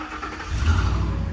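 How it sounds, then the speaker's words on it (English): A Ford Raptor truck with over 300,000 miles and an exhaust leak makes a brief cold start, a deep engine rumble swelling up close and holding loud. "Definitely hear an exhaust leak"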